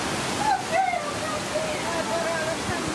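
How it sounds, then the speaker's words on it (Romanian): Floodwater rushes as a steady, dense roar through suburban streets near Florence after three hours of intense rain, with a news reporter's voice talking over it throughout. "3 ore de ploaie intensă au transformat în râuri năvalnice străzile dintr-o suburbie a orașului Florența."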